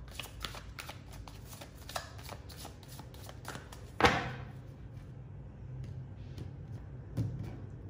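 Tarot cards shuffled by hand close up, a long run of soft riffling flutters followed by a sharper slap as the deck is squared, then quieter handling.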